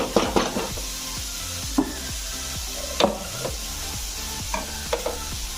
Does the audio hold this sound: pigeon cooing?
no